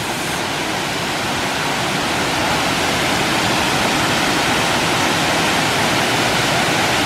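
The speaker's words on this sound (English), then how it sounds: "This is the little like side fall over here and then the main waterfall's over there." Wagner Falls, a waterfall, rushing in a steady, loud, dense roar of falling water that holds unchanged from start to finish, with no voices.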